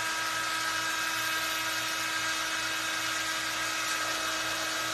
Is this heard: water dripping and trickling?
no